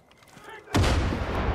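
Sudden heavy gunfire in Far Cry 5 during an attack on a luxury house erupts after a quiet moment, a loud dense burst of overlapping shots that keeps roaring to the end.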